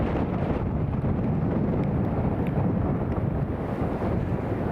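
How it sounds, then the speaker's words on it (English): Steady, heavy wind in wet weather near Newcastle International Airport buffets the microphone with a constant low roar and no letup. "it is very wet and very windy"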